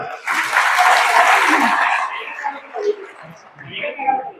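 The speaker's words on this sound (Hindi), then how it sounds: "जोरदार तालियां" Loud applause from an audience at a community public meeting in Jind, a dense burst of clapping that swells quickly, holds for about two seconds, then thins into scattered claps and crowd murmur.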